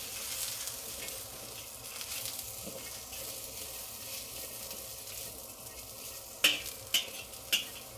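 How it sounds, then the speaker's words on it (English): Celery and mushrooms stir-fry in a wok over medium-high heat for a chop suey, giving a soft, faint sizzle with light scraping and stirring, plus a few sharp metallic taps near the end. "There's not a lot of moisture in this in these vegetables right now, so you don't hear a lot of sizzling"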